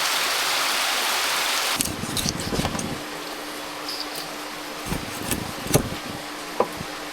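Heavy rain pours outside, a dense steady hiss for the first couple of seconds, then thinner patter with scattered sharp drips and taps close by.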